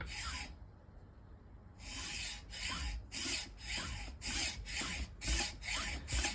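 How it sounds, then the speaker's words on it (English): Hacksaw cutting through a plastic speaker housing clamped in a vise, part of a Toyota Hilux speaker upgrade. After a short pause, a steady run of about eight rhythmic, rasping back-and-forth strokes comes through close and clear. "Then we take our hacksaw, we make a cut about 5mm in from this edge"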